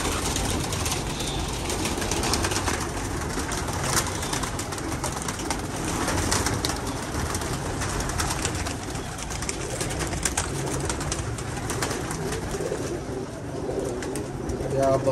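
Pigeons coo continuously in a busy outdoor setting, with soft, steady calls under a constant background wash and faint voices now and then.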